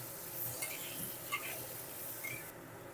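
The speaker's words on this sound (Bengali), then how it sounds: "লবণ আর হলুদ গুঁড়ো দিয়ে আলুটা বেশ ভালো করে ভেজে নেব।" Potatoes with salt and turmeric frying in a pan give off a soft, close sizzle under gentle stirring, with a few faint utensil clinks and no voices.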